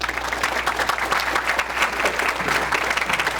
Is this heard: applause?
yes